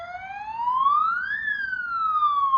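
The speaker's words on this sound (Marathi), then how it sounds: "सगळीकडं आज सायरन सुरू झालेले आहेत" A warning siren set off to scare a leopard away from a village wails loudly, its pitch rising and then falling in one long sweep over a low background murmur.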